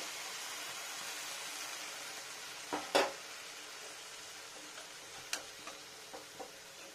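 Greens cooking in a pan after fresh water is added, a faint soft sizzle broken by a few brief clinks and scrapes of a utensil, no voices.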